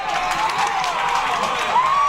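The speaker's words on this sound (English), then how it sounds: "Now the crowd's got into it." A football game crowd cheers and claps from the stands, a broad, sustained roar with a rising whistle-like tone near the end, heard without commentary over it.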